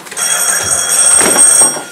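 A doorbell rings during a stage performance of Feydeau's farce Un fil à la patte, a loud continuous electric bell lasting nearly two seconds, alone without speech.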